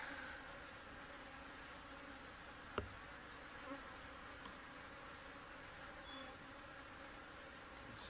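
Honey bees buzz around an open, angry hive in a soft, continuous drone, fairly faint and steady, with one sharp tap partway through.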